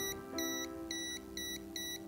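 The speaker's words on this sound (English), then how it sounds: "when I close the solder iron, you can listen the beep sound" A digital multimeter in continuity mode beeps repeatedly as the probes touch, four or five evenly spaced short electronic tones, close and clear with no talking.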